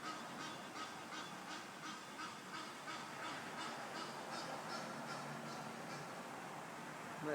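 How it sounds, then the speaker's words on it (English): An unseen seabird calls in the early morning, giving a quick run of regular, honking notes. The calls sound moderately distant over a soft background hush. "That might just be a seabird."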